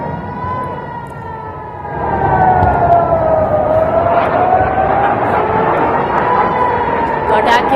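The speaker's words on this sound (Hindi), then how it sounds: "लगातार सायरन की आवाज भी पूरे इलाके में सुनाई दी" Air raid sirens wail over Tel Aviv during a missile attack, a steady rising and falling tone that carries loudly across the area, with a second wavering siren layered in and background noise beneath.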